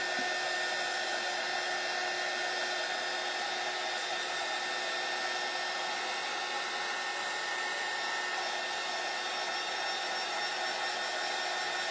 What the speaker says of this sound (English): We're going to dry these slightly just to give them a head start.